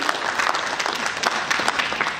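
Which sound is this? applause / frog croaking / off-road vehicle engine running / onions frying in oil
applause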